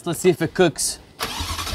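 A Ferrari 488 GTB engine fires up and roars loud and close right after someone speaks a few words, the revving rising at the end.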